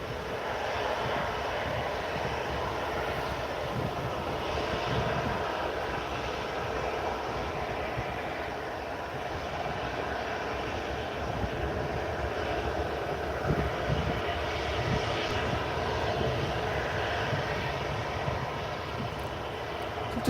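Jet engines of a TUI Boeing 737-800 and a Jet2 Airbus A321neo waiting near the runway at Manchester Airport, a steady broadband rumble and whine held at even loudness throughout, fairly distant, with no talking.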